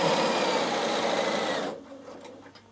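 A Bernina sewing machine stitches steadily with a fast, even whirring hum, then stops abruptly partway through, leaving quiet room tone and a few faint clicks.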